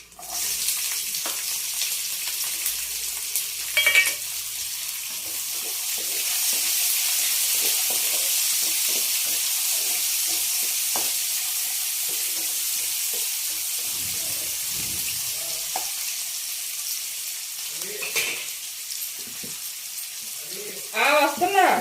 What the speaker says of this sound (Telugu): వేగినాయండి ఉల్లిపాయలు, పచ్చిమిరపకాయలు చక్కగా వేగినాయి.